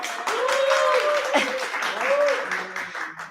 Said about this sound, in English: We're going to welcome with a huge clap